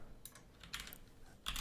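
Keystrokes on a computer keyboard while writing Python code, a few soft clustered taps at a quiet level with pauses between bursts.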